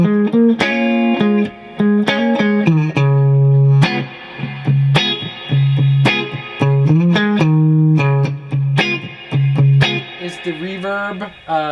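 An electric guitar plays a melodic line through a BluGuitar AMP1 amp with digital reverb, with a slightly gritty tone and reverb tails trailing each note, loud and up close.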